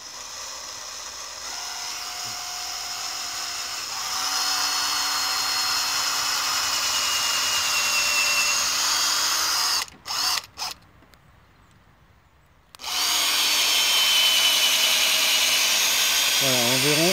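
Cordless drill driver boring a small hole into a birch tree trunk to tap sap in spring, a steady whine with rising pitch under faint outdoor ambience, pausing briefly before resuming loud and close.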